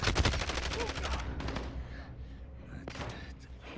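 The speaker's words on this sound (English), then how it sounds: "I'm getting shot at." In a shooter video game, a fast burst of automatic gunfire rattles loudly at first, then gives way to quieter scattered shots and thuds, with a voice speaking briefly underneath.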